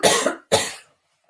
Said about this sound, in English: just a second, I'm gonna cough.